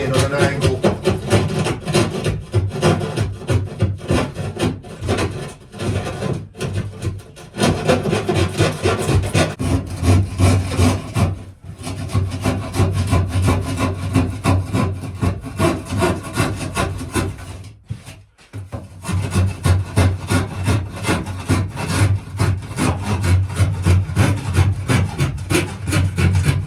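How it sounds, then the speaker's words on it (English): A trusty tenon saw cuts into wood at an angle while a narrowboat dinette is being built, giving a steady run of rasping back-and-forth strokes, close and loud, with a few brief pauses. "So I'm using my trusty tenon saw."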